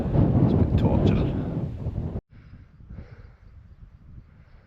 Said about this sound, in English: Fair wee breeze going at the moment